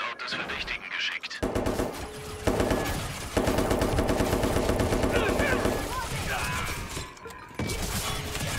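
Gunfire in the video game Watch Dogs 2: rapid machine-gun bursts in long rattling volleys, broken by short pauses and a few crashes, with spoken voices over the shooting.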